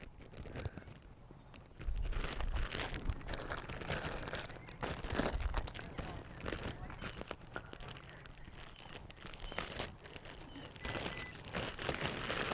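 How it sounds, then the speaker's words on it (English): Plastic crinkles and rustles up close in irregular bursts, with soft handling noises and a faint voice in the background. "The protocol is to put the sample into a plastic bag."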